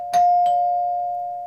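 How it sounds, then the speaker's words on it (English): Newhouse Hardware CHM2 doorbell chime, a replacement unit on a rear doorbell, strikes two close ding tones and then leaves one pure tone ringing out and slowly decaying, loud and clear with no talk. "it does work for my rear doorbell"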